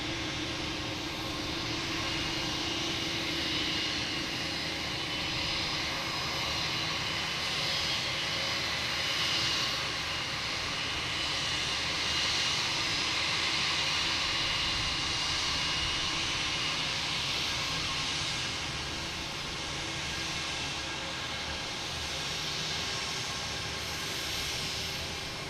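A Spirit Airlines jet arriving at Boston Logan Airport, its engine roar a steady, broad rumble and hiss that holds at moderate loudness for the whole stretch, with no voices.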